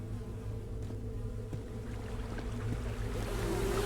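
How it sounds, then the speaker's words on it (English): Flies buzz in a dark cave setting in the game The Secret of Weepstone, a continuous low droning hum with a faint water rush beneath it, steady and moderately loud, with no voices. "Despite the buzzing flies, you hear the faintest sound of rushing water that seems to be coming from the farthest hole."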